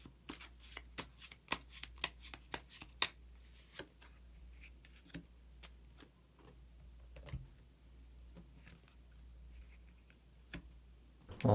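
Tarot cards are shuffled before a hidden card is drawn, giving a close, quiet run of crisp card snaps and riffles that thin out into scattered soft taps, with no talk.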